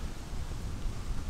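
Steady rain falling in a dense forest, a continuous hiss of drops close by with low rumbling noise underneath and no voices.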